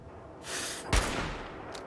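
A single sharp gunshot from Fallout 4 cracks out mid-moment, loud and close, framed by brief rushing game ambience before and after.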